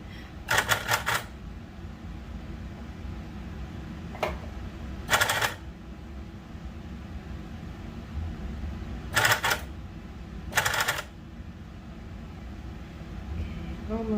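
A sewing machine runs a blind hem stitch along a serged seam in short clattering bursts, four main runs of rapid ticking spaced seconds apart over a low background hum.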